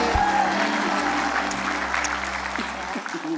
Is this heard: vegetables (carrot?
no